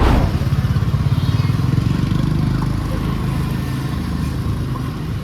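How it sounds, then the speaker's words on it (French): A scooter engine putters and revs nearby on a street in Vietnam, a steady motorized drone with traffic noise filling the street. "De notre appart, on voit les rues et on voit tous les scooters"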